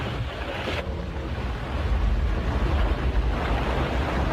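Wind and sea surf roll around a sailing ship at sea, a dense continuous roar with deep low rumble swelling after the first second, loud and steady with no voices.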